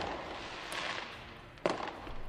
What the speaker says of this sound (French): Et donc vous entendez des tirs de feux d'artifice qui résonnent dans le ciel.